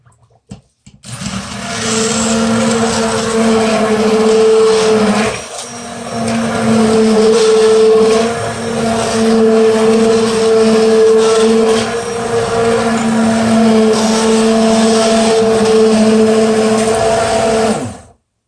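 A loud immersion blender purées cauliflower soup, whirring continuously with a steady motor hum, briefly dipping in pitch and pausing for an instant before running on.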